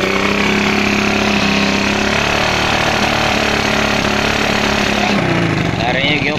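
A Suzuki Smash 110 motorcycle with a carburetor fault runs steadily and loudly at close range, its engine note uneven and sputtering as if misfiring, with a sharp drop in pitch near the end as the throttle eases.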